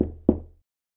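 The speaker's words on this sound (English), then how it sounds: "Soon Little Red Riding Hood came and knocked on the door." Two sharp, close knocks on a door, spaced about a quarter second apart, each ringing out briefly before silence, in a storybook telling of Little Red Riding Hood.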